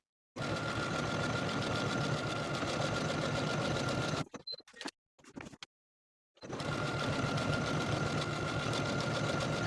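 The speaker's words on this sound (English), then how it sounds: "sew your vertical buttonholes in place a 1/2 of an inch away from the outer folded edge" A sewing machine stitches vertical buttonholes on a dress placket, half an inch from the folded edge, in a steady, close, rapid whir that breaks off briefly in the middle for a pause and some faint handling before restarting.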